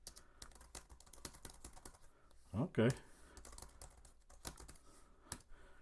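Typing on the keyboard case of a 10th-generation iPad, a quiet scatter of light clicky keystrokes in an irregular rhythm, with a short spoken word breaking in midway.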